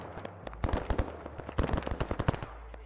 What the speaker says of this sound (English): Got a large barrage of artillery landing around them